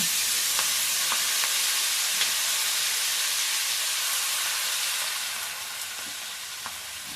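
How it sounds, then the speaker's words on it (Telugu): Chopped Malabar spinach (bachali) leaves cook in hot oil in a pan, giving a steady close sizzle and hiss that softens slightly near the end, with faint stirring clicks and no talking. "ఐదు నిమిషాలు నూనెలో మగ్గనియాలి మూత పెట్టి"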